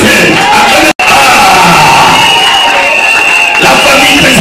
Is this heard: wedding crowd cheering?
yes